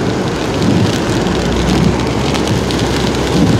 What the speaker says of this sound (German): Letzte Hagelsteine fallen zu Boden.